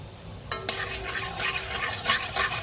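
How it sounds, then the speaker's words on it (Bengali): Powdered milk poured into hot water in a wok for coconut bhapa sandesh, giving a soft splashy hiss followed by steady scraping and stirring, close and moderately loud with no voices. "জলটা গরম হয়ে গেছে, আমি 100 গ্রাম গুঁড়ো দুধ এর মধ্যে দিয়ে দেব।"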